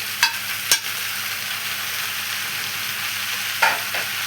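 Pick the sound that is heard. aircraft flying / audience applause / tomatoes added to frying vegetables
tomatoes added to frying vegetables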